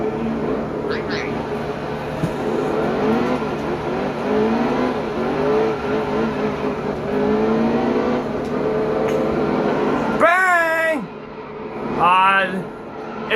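Race truck engines from the Camping World Truck Series in the Nascar Heat 2 video game at Bristol drone and rev continuously, with loud shifting whines near the end and a voice talking over them.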